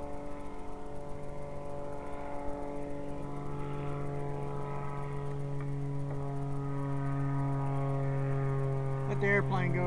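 An airplane flies low over a wild camping spot, its propeller drone a strong harmonic hum that swells slightly as it passes. A voice briefly breaks in near the end.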